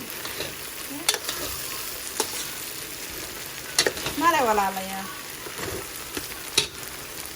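Food fries and is stirred in a pan, a steady sizzle broken by scraping and clattering of a utensil, while a person speaks briefly over it.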